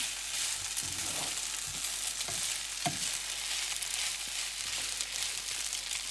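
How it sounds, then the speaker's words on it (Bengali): Pasta fries in sunflower oil with a steady, even sizzle throughout, a few soft stirring scrapes and taps rising briefly above the constant hiss. "আমি একটু ফ্রাই হতে দেবো"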